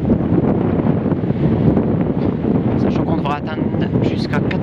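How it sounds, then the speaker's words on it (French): Strong gusting wind averaging 30 to 40 km/h with gusts near 70 km/h ahead of a cold front, loud broadband buffeting right against the microphone that swells and eases continuously throughout. "Là, en moyenne, ça souffle à 30, 35, 40 km/h et il y a des rafales jusqu'à 70."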